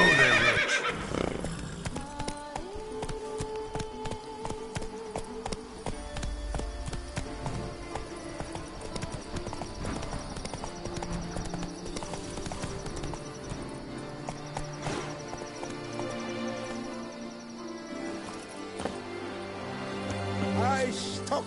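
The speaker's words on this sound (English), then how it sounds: "Whoa there, Roach" In The Witcher 3, the horse's hooves clip-clop steadily over ground with a whinny cutting in, layered over game music and ambience, with a voice speaking briefly.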